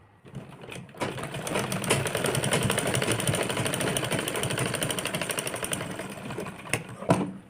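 A sewing machine runs a steady, continuous stitching burst along the edge of a belt-style princess-cut blouse, starting after a brief quiet moment and carrying on loudly and close for several seconds before stopping.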